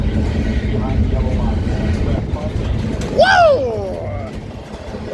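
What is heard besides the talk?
freight train passing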